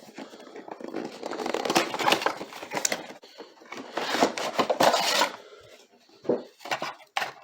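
Child's scissors cut and push into plastic toy packaging around a Transformers figure, giving close crinkling, snipping and tearing bursts that come in irregular clusters with short pauses and no speech.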